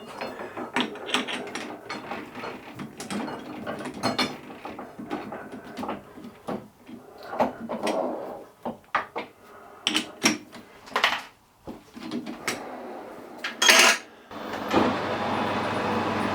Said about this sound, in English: Run the lathe slow, it's only been started for a few days just to get some oil around the headstock